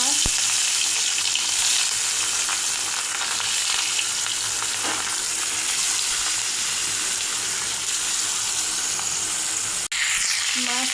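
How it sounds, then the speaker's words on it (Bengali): Katla fish pieces rubbed with turmeric and salt frying in hot mustard oil in a wok, a loud, continuous close sizzle with a few faint clinks. "এখন মাছগুলো হলুদ লবণ মেখে ভেজে নেব"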